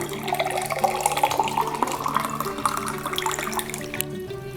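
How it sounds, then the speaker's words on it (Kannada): About a litre of water is poured from a large tumbler into a vessel to make a neem-leaf herbal kashaya, a close, steady gushing pour lasting a few seconds before it tapers off. "ಸೊ ಈಗ ನಾವು ಅಷ್ಟು ನೀರನ್ನು ಹಾಕ್ಕೊಳ್ಳೋಣ"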